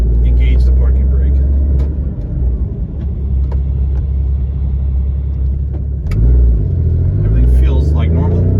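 A Porsche GT4 engine on a test drive, heard from inside the car. A steady, close engine drone and road rumble rise into a brief rev near the end, with a person talking over it.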